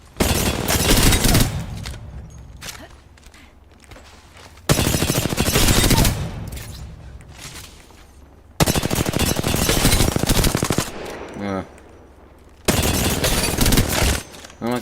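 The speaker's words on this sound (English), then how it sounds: "Those shots are chopped." Rapid automatic gunfire from the video game Apex Legends, loud bursts that start and stop in several long volleys with short quieter gaps between them.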